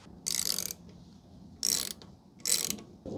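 A ratchet undoes the fork pinch bolt on a Honda Rebel 1100 motorcycle, three short bursts of rapid clicking separated by quiet pauses, close by and crisp.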